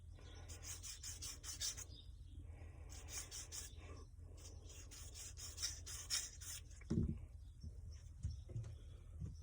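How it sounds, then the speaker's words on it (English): Sandpaper rubbing back and forth over the deburred edge of a handmade coin ring, giving a steady close rasping scrape in repeated strokes, pausing briefly near the end before a few lighter rubs. "I give it a little bit of sandpaper on that edge from the deburring tool to smooth that part out"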